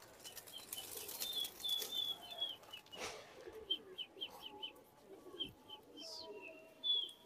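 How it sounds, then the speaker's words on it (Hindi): Released racing pigeons burst into flight from a Delhi rooftop, sharp flurries of wing flapping amid chirps and coos, some near and some farther off, with faint voices in the background. "वो कबूतर खुल चुके हैं भाई।"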